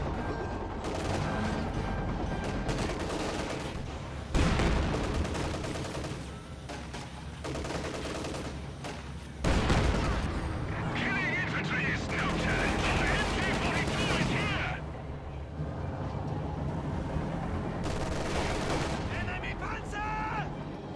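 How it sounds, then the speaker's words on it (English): Machine gun fire in the Company of Heroes strategy game rattles in long sustained bursts amid explosions and battle noise, with a commentator talking over the action throughout. "Another squad about to get wiped right there just by the machine gun."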